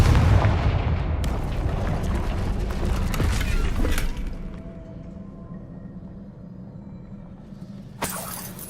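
A Confringo blasting spell explodes in Hogwarts Legacy, a heavy booming blast with crashing debris that rumbles for a few seconds and then fades, followed by a sharp crack near the end.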